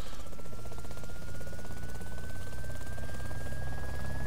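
Helicopter flying in the video game DayZ, a steady loud rotor thump and engine whine with a slowly rising tone throughout.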